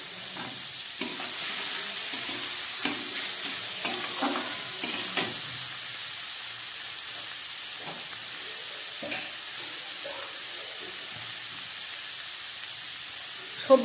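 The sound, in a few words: vegetables frying and being stirred in oil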